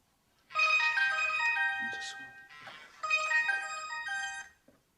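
A mobile phone ringtone goes off in a workplace, a loud bright electronic melody playing in two bursts close by with a short gap between them.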